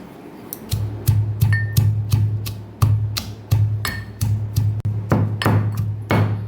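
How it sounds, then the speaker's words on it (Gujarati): Ginger, green chillies and sesame seeds pounded in a mortar, a steady series of sharp rhythmic thuds with a low ringing knock on each strike, loud and close. "તો આદુ મરચાંને આપણે ખાંડી લેવાના છે. અને સાથે આપણે તલ પણ ઉમેરી દઈશું ખાંડવામાં જ."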